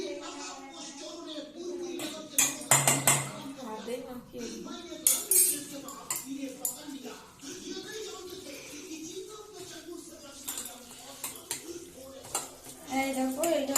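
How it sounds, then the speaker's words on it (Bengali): A spoon stirs gram flour (besan) batter with salt and chili powder as water is mixed in, giving repeated close clinks and scraping against the bowl with brief louder knocks, while a person talks over it. "তো এবার জলটাই মিক্স করে নেবো"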